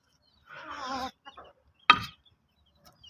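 A chicken gives a short run of clucks, then after a pause lets out one sharp, loud squawk, in otherwise quiet surroundings.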